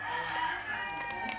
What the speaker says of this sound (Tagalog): don't mind the manok guys.